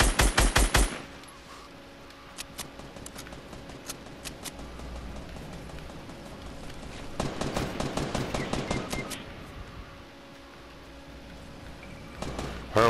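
Minigun firing in the Fortnite video game, loud rapid bursts of automatic gunfire at the start, in the middle and again at the end, with quieter scattered shots in between.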